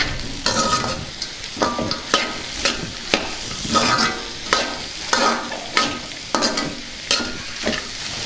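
Carrot and peanut fry with chili powder being stirred in a pan, rhythmic scraping strokes roughly every half second over a steady sizzle, close and fairly loud.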